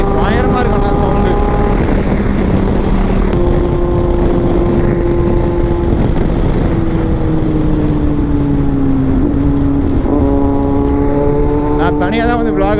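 A Kawasaki Z800 motorcycle with a stock exhaust rumbles loudly and close, its engine note rising and falling through revs while someone talks over it.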